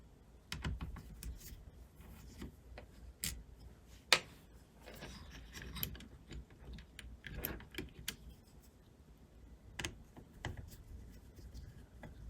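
Small metal clicks and scrapes of a screw being turned out of a JVC Victor DD-7 turntable, close and quiet, with scattered sharp ticks and handling noise and no talking.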